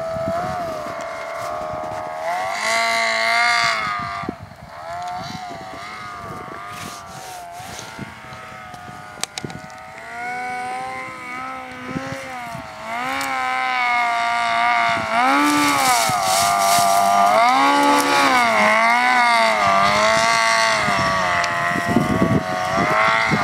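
A Yamaha RX1 snowmobile engine runs continuously through deep powder snow, its strained, wavering drone rising and falling with throttle and growing louder and harsher in the second half, with no talk over it.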